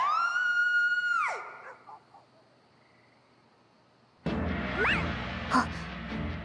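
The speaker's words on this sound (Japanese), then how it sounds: "また悲鳴が聞こえました。" A scream from Princess Connect Re:Dive, heard once as a loud, drawn-out cry that breaks off, followed by quiet and then a burst of busy, noisy game sound.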